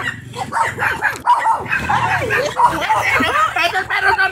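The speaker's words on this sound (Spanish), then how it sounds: "¡Estos perros son peligrosos!" Dogs barking and yipping close by, repeated yelps over a busy background with people talking at the same time.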